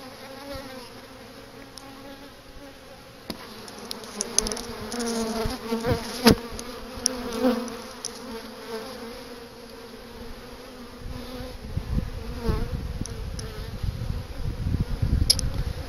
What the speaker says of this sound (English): I got a bee right there.